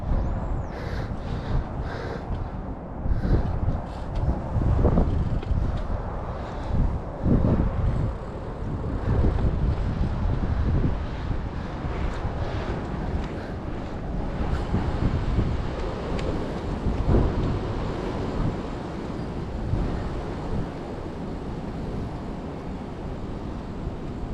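Strong wind buffets the microphone in continuous gusts, a rough rumbling roar that rises and falls throughout.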